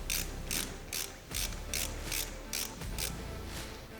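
A bolt is tightened on an aluminum roof for a CFMOTO UFORCE 1000 XL UTV with a ratchet, producing a regular series of about nine crisp clicking strokes at close range.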